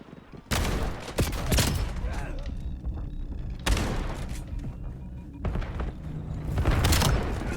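M10 Breacher shotgun firing in Black Ops 7, with three heavy booming blasts spaced a few seconds apart, each trailing into a loud rumbling tail over a constant battle din.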